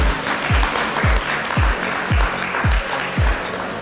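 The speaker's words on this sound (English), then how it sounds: "Yeah, you can clap for yourself." A handful of people clapping in slow, evenly spaced unison at a community brunch event, each loud clap landing about every half second over a faint background of scattered applause.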